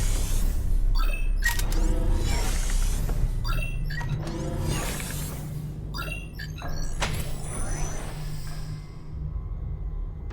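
A dematerializer machine in a video game converts objects into resource tubes, giving a run of loud mechanical whirs, clicks and servo-like sweeps in bursts over a steady low hum, with no talking.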